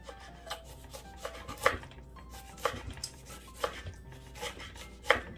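A knife chops an onion into thin strips on a board for abalone jang, with sharp, spaced cuts landing about once a second over a faint background of kitchen clatter, no voices.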